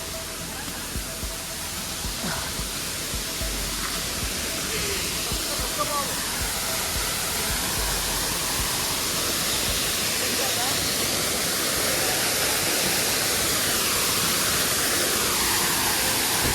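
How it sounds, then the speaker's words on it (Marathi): A hidden hot-water waterfall in the Konkan during the monsoon roars as a steady, dense rush of broadband water noise that holds evenly throughout, close and loud, with faint voices under it. "आता आपण पोचलो धबधब्याजवळ का भारी धबधबा बघा"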